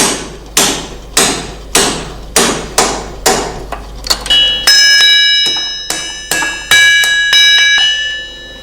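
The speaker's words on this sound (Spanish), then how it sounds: "los agujeros se hacían a golpe de puntero sobre el hierro en caliente" Hard, ringing metal strikes repeat in a steady rhythm, a punch hammered into hot iron, the later blows leaving a sustained bell-like ring.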